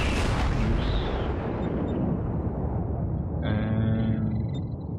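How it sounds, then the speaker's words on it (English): American battleship guns fire in World of Warships: a loud booming salvo bursts at the start and rumbles away, followed by a second, thinner blast with ringing tones a few seconds later. "I'm going to allow the rest of my guns to fire on him."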